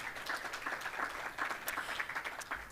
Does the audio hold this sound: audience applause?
yes